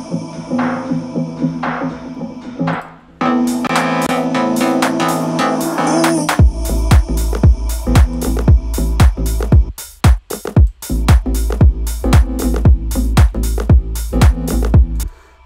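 A song opens with a washy synth bed under convolution reverb that swells for a few seconds. A deep, pumping kick-driven beat then enters and pulses steadily, loud and close.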